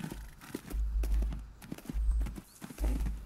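Horse hooves in a show-jumping riding video game clip-clop in a quick repeating rhythm, with heavy thuds in bursts and lighter clatter between them, moderately loud and with no talking.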